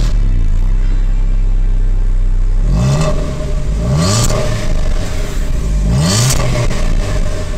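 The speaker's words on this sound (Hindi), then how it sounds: "हालांकि मैं गाड़ी को रेव भी कर रहा हूँ।" A used petrol car engine idling loudly, then revved in three rising bursts that each fall back to a steady rumble, recorded close with no speech.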